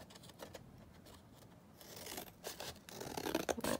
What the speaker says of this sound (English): Now I'm going to cut the flap type pieces off.